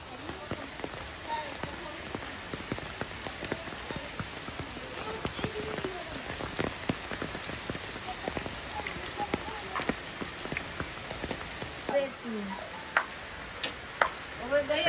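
Heavy monsoon rain drums and patters steadily on nearby surfaces, with scattered louder drips and ticks, while voices talk faintly in the background.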